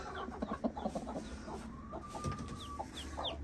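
A hen sitting on a clutch of eggs clucks softly in a quick, irregular series of short low notes, faint and close, with a longer drawn-out call partway through.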